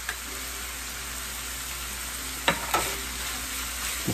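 Steak and garlic frying in a skillet under a constant soft sizzle, with two clear stirring scrapes about midway, close but fairly quiet with no voices.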